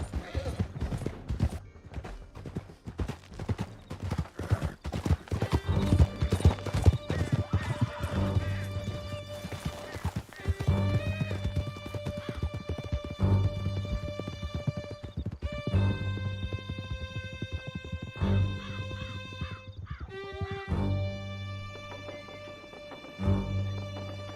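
A horse gallops in Red Dead Redemption 2, with fast rhythmic hoofbeats close and loud over a desert canyon trail and a neigh partway through, while music swells and voices speak briefly.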